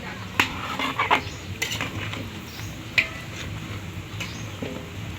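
A spoon stirs kaldereta in a cooking pot, giving scattered scraping and clinking knocks against the metal, a few louder clanks among softer ones over a steady low background hiss.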